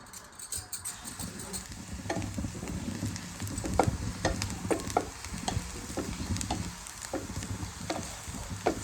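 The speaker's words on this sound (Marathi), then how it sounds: "आता आपण पॅनमध्ये तेल घालून त्याची फोडणी करून घेऊया." Sliced onion and capsicum sizzle and crackle in hot oil in a pan while being stirred for tempering, a steady close frying hiss with scattered pops and spoon scrapes throughout.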